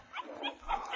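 A small puppy gives a few faint whimpers and yips in a quick one-second burst, heard in a 1940s radio drama.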